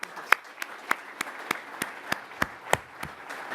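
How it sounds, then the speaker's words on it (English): A thin scattering of hand claps from an audience at a startup demo day keynote, about a dozen separate sharp claps at an uneven pace, fairly close and with no talk over them. "if we could have a round of applause."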